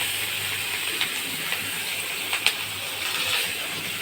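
Onions frying in hot fish oil for a Katla fish-head kalia, a steady soft hiss and sizzle throughout with a few small sharp pops, close and even, no voices.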